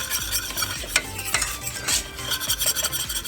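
Beef coated in seasoning and flour is stirred in a hot pan, a utensil scraping and rasping against the metal in repeated strokes over a steady close sizzle.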